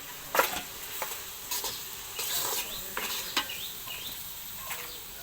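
Spoon stirring salt and ginger-garlic paste in a cooking pan, giving a few brief scraping strokes with light sizzle between them, faint and close.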